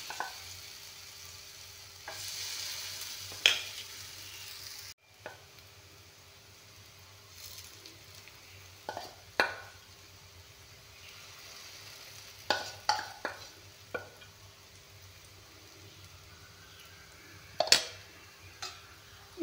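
Potato peel pakoras frying on a tawa, giving a soft steady sizzle with scattered clinks and taps of a utensil against the pan, close by and without speech.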